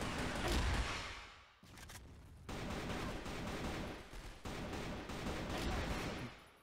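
Pistol fire in the CrossFire shooter game comes as dense bursts of gunshots, loud and close, broken by short gaps.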